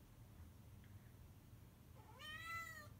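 A single cat meows once, a rising then falling cry near the end, after a quiet stretch of faint background hum.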